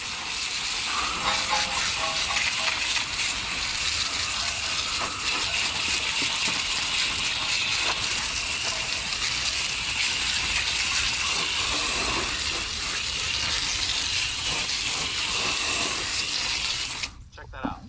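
Automatic car wash spraying rinse water over a 2023 Acura Integra, a steady loud rushing gush that runs unbroken for most of the time and cuts off abruptly near the end.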